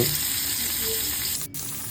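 Vegetables such as potato, papaya, drumstick and carrot frying in oil in a kadai for Bengali shukto, a steady close sizzle with a brief dip near the end.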